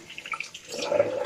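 Water splashed onto a face while wetting it before a wet shave, a short run of light splashes and drips that gives way to a steadier running-water hiss, close by.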